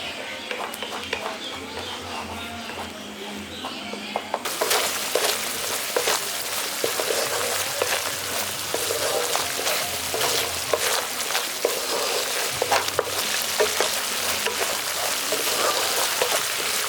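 Spice paste of poppy seed and mustard frying for an okra curry: a quieter sizzle first, then a sudden loud, crackling fry with scattered stirring clicks that keeps going close up to the end.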